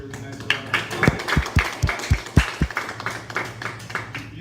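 Applause for a speaker after a chat event, a small group clapping with sharp individual claps that thin out toward the end, with faint voices.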